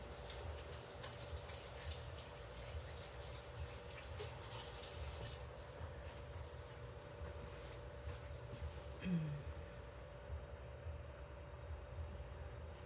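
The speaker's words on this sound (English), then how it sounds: "Just a second while I rinse off." Water runs steadily from a tap while paint is rinsed off hands, a continuous broadband wash that stops partway through, leaving quieter room noise.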